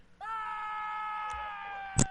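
A sustained, loud scream sound effect added in the GTA V Rockstar Editor holds steady for almost two seconds, and a sharp click follows right at its end.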